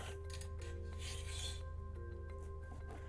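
Metal T-nuts sliding along the slot of an aluminum extrusion, a soft continuous rasping scrape with faint clinks, quiet and close over a steady low hum.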